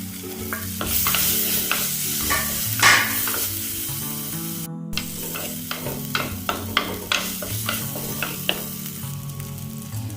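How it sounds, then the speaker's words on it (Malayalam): Crushed ginger and tomato frying for a Kerala fish curry served with tapioca, a constant close sizzle with frequent spatula knocks and scrapes against the pan, briefly cut off midway, without speech. "ഇനി ഇതിലേക്ക് ഇഞ്ചി ചതച്ചത് ഇട്ട് കൊടുക്കാം."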